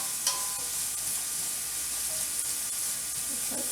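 Carrots sautéing in a pan while a smoked sausage, greens and white bean soup is being made, giving a steady close sizzle with a few faint scrapes and no talk.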